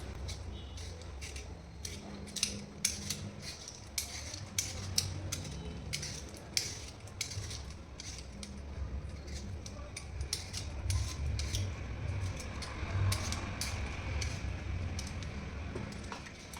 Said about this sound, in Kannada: ಇವಾಗ ಒಂದು ಆಲೂಗಡ್ಡೆ ತಗೋತಾ ಇದ್ದೀನಿ. ಅದನ್ನು ನೀಟಾಗಿ ಸಿಪ್ಪೆ ಎಲ್ಲ ಹಿರಿದ್ಬಿಟ್ಟು ಇಟ್ಕೋಬೇಕು.